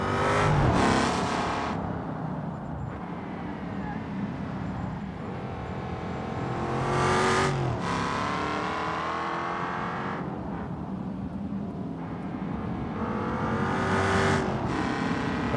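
Race car engine climbing a tarmac hill course in BeamNG.drive, revving hard and loud throughout with repeated rising and falling pitch sweeps as it accelerates, shifts and brakes into corners.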